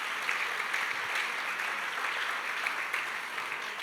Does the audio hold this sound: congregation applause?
yes